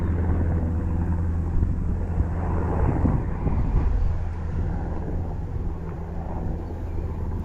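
A low aircraft engine drones steadily overhead, a constant rumble with some wind buffeting, no talking.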